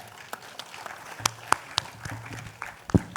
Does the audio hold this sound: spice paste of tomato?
no